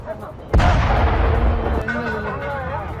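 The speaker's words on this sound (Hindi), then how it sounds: "आरामको के ऑयल डिपो पर मिसाइल से अटैक किया गया।" Missile strike on the Aramco oil depot in news footage: a sudden loud blast hits and rolls into a sustained roaring rumble, with fainter tonal sounds and possible voices riding over the din.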